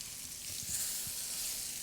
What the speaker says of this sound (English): I'm gonna flip it the eggplant round.